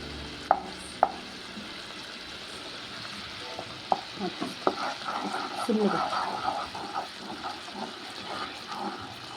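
Flour mixture for ghee Mysore pak is stirred in a pan, giving a soft continuous sizzle with occasional sharp knocks of the spoon against the metal, growing busier midway, with some voice underneath.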